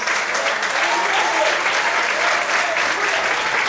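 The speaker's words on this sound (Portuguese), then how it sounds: "Mais aplausos para o Senhor Jesus." A church congregation applauds at a Portuguese-language service, giving dense and steady clapping throughout, loud and close, with no voice over it.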